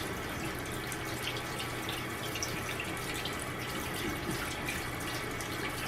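A makeup brush is rubbed over a bar of soap under a running faucet, giving a steady, fairly quiet stream of water with soft wet scrubbing beneath it and no voices.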